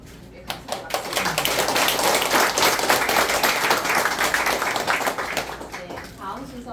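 An audience at a 30th-anniversary commemorative event in Seoul breaks into thanking applause, beginning with a few sharp claps, then a full, close burst of clapping that holds for several seconds before tapering off under a faint voice.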